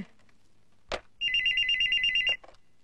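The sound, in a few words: telephone ringing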